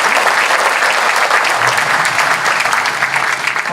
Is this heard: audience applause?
yes